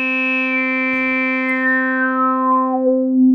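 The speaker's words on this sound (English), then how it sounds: "let's give it a square wave now. Let's put the resonance all the way to the top." A square wave runs through an Electro-Smith 2144 four-pole low-pass filter with resonance maxed, giving a loud, steady buzzy tone whose bright upper harmonics sweep down and fade until a near-pure resonant hum remains.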